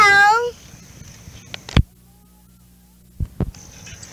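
A voice gives a short, high, wavering meow imitating a cat, followed by near silence and a few soft knocks and clicks.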